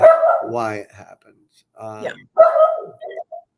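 A dog gives a few short barks in quick bursts, close and fairly loud, separated by brief pauses, with a person's voice speaking in between.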